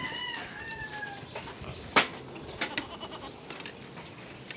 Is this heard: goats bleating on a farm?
yes